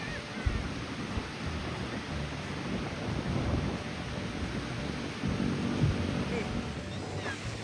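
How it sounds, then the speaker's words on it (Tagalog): Strong wind roars and buffets the microphone continuously at a beach in Binmaley, Pangasinan, Philippines, with a steady rushing like distant surf and occasional faint voices underneath. "Grabe yung hangin."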